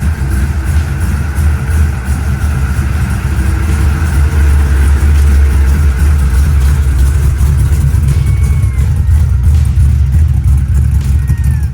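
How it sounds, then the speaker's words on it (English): Malibu car engine running on a new ATM 950 carburetor, a loud steady low rumble with a few light revs, close and continuous with no talk. "we crank the engine over, fill the fuel bowls with fuel, and fire the car up"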